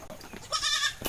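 A newborn baby goat gives one short, clear bleat, close by, after a moment of quiet background.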